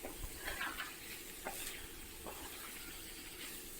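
Homemade noodles get stirred together with pre-fried egg in a pan, giving faint scraping and stirring sounds over a soft, continuous sizzle.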